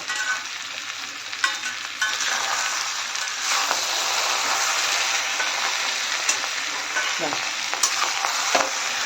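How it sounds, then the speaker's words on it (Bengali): Fish roe stirred into a pan of katla fish-head pulao, frying with a steady close sizzle and scraping stirs, a few sharp clicks of utensil against pan, no talking. "আমি এর মধ্যে এবার এই ডিমগুলোও দিয়ে দিলাম। দিয়ে আবারও 2 মিনিট আমি রেখে এটাকে বন্ধ করে দেবো।"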